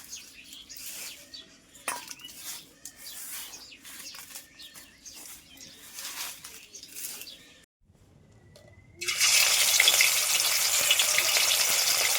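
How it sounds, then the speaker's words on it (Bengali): Fish sizzle loudly as they hit hot oil in a pan in a home kitchen, a bright, steady crackle that starts abruptly after quieter clinking, stirring and faint birdsong. "এখন মাছগুলো ভেজে নিচ্ছি"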